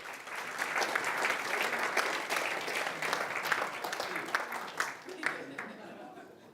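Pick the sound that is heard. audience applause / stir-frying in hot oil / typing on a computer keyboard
audience applause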